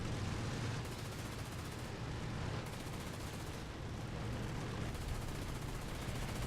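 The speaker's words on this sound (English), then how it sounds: "He's firing a machine gun trying to penetrate the armor" Tank machine gun fire in the War Thunder video game: a dense, continuous rattling barrage that stays loud and even for the whole stretch, with no pauses.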